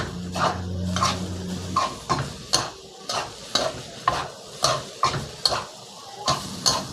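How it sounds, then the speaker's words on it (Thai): Fried rice with fermented pork (nam) being stir-fried in a pan, a spatula scraping and tossing in steady repeated strokes, about a dozen sharp clinks over a low sizzle, close and alone. "พอเราผัดมาจนข้าวเริ่มเซ็ตตัวนะครับ เริ่มร่วนนะครับ"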